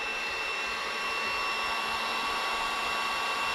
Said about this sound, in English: let me get my heat gun. I want to put some heat on this first.